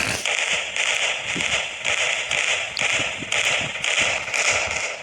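Firecrackers burst continuously in the Indian Bike Driving 3D video game, a dense crackling barrage of sharp pops that stays loud and close throughout, with no voices over it.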